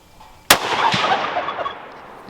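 A single sharp, loud rifle shot from a Christensen Arms Mesa rifle cracks out in the open, then a long rolling echo fades away.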